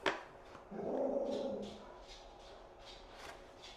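A dog barks a few times in a home kitchen during baking, a short burst near the start followed by fainter, scattered barks and some low growl-like sound, moderately close and without talk.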